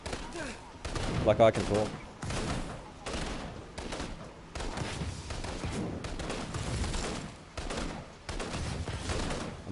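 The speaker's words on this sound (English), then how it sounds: "He's trying to shoot me, but he's not doing a very good job." Rapid bursts of enemy gunfire in Infamous: Second Son, repeated volleys sounding at a moderate distance throughout, with someone talking briefly over the shooting.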